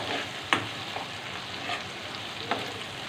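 Prawn and tomato masala frying in a pan as it gets stirred, a steady close sizzle with a few sharp scraping strokes of the spoon spaced about a second apart.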